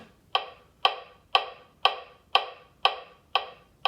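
Metronome clicking steady quarter notes in a rhythm lesson, eight crisp evenly spaced ticks about half a second apart, close and clear with nothing else sounding.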